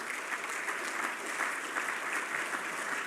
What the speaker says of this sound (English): give a round of applause to the program director who did an amazing job today